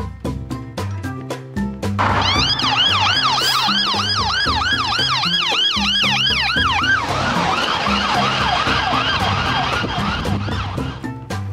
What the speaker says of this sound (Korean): 이건 그냥 구급차가 빨리 지나가는 것 같은데?